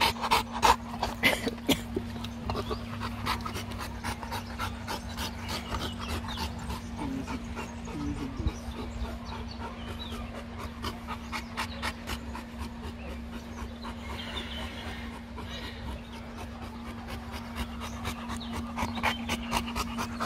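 A dog panting steadily in rapid, rhythmic breaths close to the microphone, with faint wet licking sounds and occasional soft snorts, fairly quiet and without talk.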